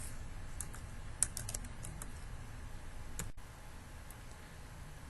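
Typing on a computer keyboard while entering a cake recipe into desktop software: quiet, irregular clusters of light key clicks at close range, with a brief pause midway and no talking.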